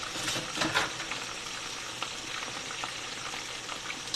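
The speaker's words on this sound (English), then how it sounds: "it's that delicious fish is cooking" Battered fish deep frying in oil, a steady dense crackling sizzle with small pops throughout, close and continuous with no voices.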